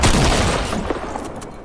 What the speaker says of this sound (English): With the new shotgun.